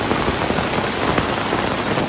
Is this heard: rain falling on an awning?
yes